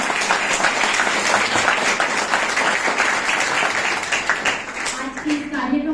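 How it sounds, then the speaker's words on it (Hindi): Students at a National Youth Day event applaud to welcome the chief guest, a loud, sustained burst of crowd clapping that tapers near the end as a voice begins speaking. "हमारे स्टूडेंट से बहुत अच्छी सी ताली के द्वारा उनके स्वागत की अपेक्षा"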